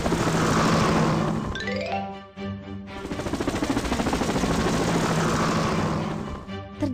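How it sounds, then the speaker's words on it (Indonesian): A cartoon helicopter takes off with a loud whirring rotor clatter. A brief rising tone sweeps through partway, then the dense chopping drone returns and keeps going. "Helikopter, berangkat."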